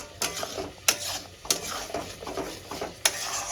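A masala spice paste frying in a pan for a bottle gourd kofta curry, with a spoon stirring and scraping in a few sharp clinks over a soft, steady sizzle.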